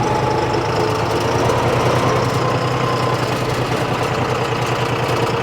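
John Deere 5210 V2 diesel tractor idling close by, a steady, rough rumble with a faint knocking pulse running unbroken throughout.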